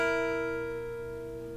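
A tritone interval played alone on a sustained instrument rings as a steady two-note dissonance, fairly quiet and slowly fading, with no voices.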